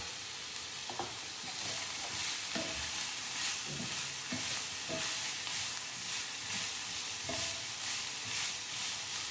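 Mixed vegetables sauté with salt in a pan for hakka noodles, giving a steady close sizzle broken by repeated scraping stirs of the spatula, with no voices.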